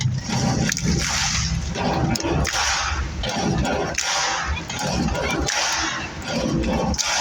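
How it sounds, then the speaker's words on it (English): A large audience in an arena stomps and claps together in a steady repeated rhythm, loud and dense, with crowd noise filling the space. "all the men are going to stomp their feet twice, and the ladies are going to clap their hands once right after"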